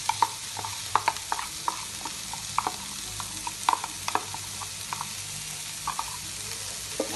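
Chickpeas and onion fry in a pan while masala is stirred in for channa masala, a steady soft sizzle broken by frequent quick spatula taps and scrapes at an uneven pace, close up.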